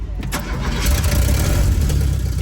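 The engine of a 1969 Cadillac, just reconnected to its fuel lines, cranks and catches, then settles into a loud, rough running rumble close by.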